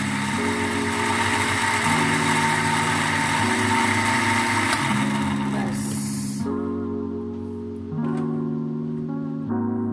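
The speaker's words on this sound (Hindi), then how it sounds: "इसको ब्लेंड कर लेंगे" An electric blender whirring through apricots and milk, a loud steady motor hum that shifts pitch in stepped pulses and drops out briefly near the end, heard close.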